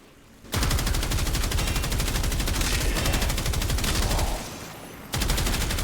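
Rapid full-auto gunfire from a Warframe weapon in a video game, a loud continuous stream of shots in two long bursts separated by a brief pause, with no talk.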